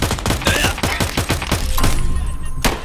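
Rapid bursts of automatic gunfire in a Tarkov-style shooter, a dense, loud volley of sharp cracks for about two seconds, then a pause and one final report.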